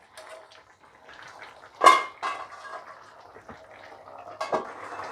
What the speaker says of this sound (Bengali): এখন আমি এটাকে ঢাকা দিয়ে দেবো সেদ্ধ হওয়ার জন্যে